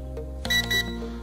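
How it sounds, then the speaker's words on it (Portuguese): A drone remote controller gives a short pair of high electronic beeps, signalling speed setting 2, close by over a steady low hum. "ele vai fazer o bip"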